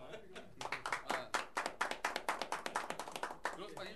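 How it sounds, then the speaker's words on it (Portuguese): A small group claps hands in a round of applause at a casual Brazilian bar-style talk show, the claps quick and close, running steadily under people talking. "Uma salva de palmas?"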